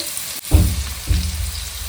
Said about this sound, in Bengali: এদিকে পেঁয়াজ ভাজা চলছে